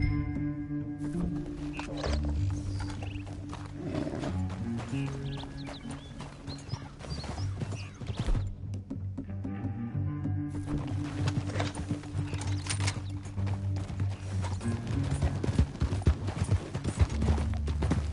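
Horse hooves gallop in a steady clip-clop rhythm through the Western video game Red Dead Redemption, drumming on for a long stretch with occasional snorts, over a low rumbling music or ambience bed.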